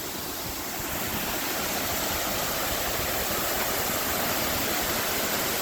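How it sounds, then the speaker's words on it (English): Luke's Falls in Lehigh Gorge pours in a broad, steady roar of rushing water. It sounds close and loud, a dense wash that holds evenly throughout with no voices. "This is the second of the two waterfalls we're gonna check out today."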